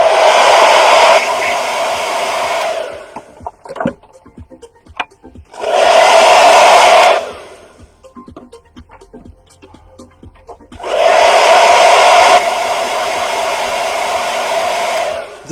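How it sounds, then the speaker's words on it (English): A powerful hair dryer blows hot air onto an RC car body shell in three steady bursts of a few seconds each, loud and close, with quiet gaps of faint handling noise between them. "This hairdryer that my wife gave me is way more powerful than the last one"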